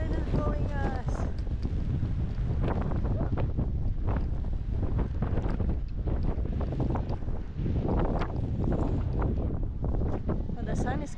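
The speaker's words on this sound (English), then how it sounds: "Woo, the wind is blowing us." Strong wind buffets the microphone on the deck of an Alaska cruise ship, a constant loud roar, with people talking over it.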